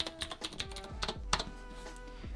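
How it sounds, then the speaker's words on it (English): Quick taps on an iPad keyboard, about a dozen light clicks in an uneven run over a couple of seconds, close and fairly quiet with no voices. "and continue on my keyboard."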